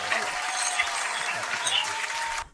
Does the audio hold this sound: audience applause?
yes